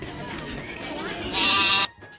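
A goat bleats at a family village festival, with the sharp call rising near the end above a busy background of people talking, then stopping abruptly.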